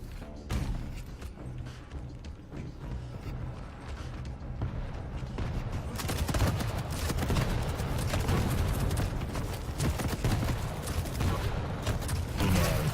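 Rocket launcher firing in the Quake Champions video game: bursts of rapid booming impacts and mechanical clanks, growing denser and louder in the second half amid continuous game action.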